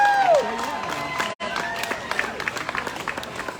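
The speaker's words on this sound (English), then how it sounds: "let's give Winnsboro a nice round of applause" A crowd at a 12-year-old all-stars youth baseball tournament applauds and cheers for the Winnsboro team, with scattered clapping and voices heard from a distance after a voice over the loudspeaker.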